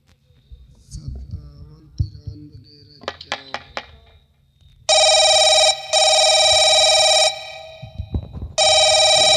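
Mobile phone dialed by hand: a few soft taps and clicks, then a loud, shrill electronic telephone ring in long repeated bursts with short pauses between them, close and dominant.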